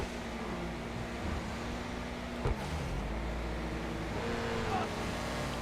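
Engine of an Ubermacht Sentinel GTS sports car in GTA V Online, a steady low droning hum with shifting tones as it cruises and revs, continuous and moderately loud, with someone talking over it.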